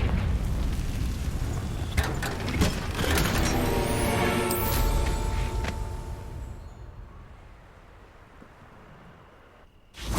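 Confringo explosive spell blasts in Hogwarts Legacy, loud booming bursts and crackling impacts that rumble for several seconds, then fade into a quieter tail before a final sharp burst, with no talk.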